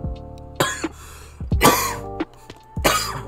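Coughing from a person who has just woken up, with three loud, raspy bursts spaced over a few seconds and close to the mic, separated by quieter gaps with some background game sound.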